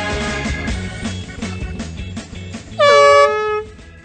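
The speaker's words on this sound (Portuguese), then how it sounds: "Você não tem o que fazer, não, com essa porcaria, essa buzina?" A loud air horn is blown as a prank during a Brazilian hidden-camera TV gag show. It gives a single sustained blare near the end, rising over busy background sound and voices.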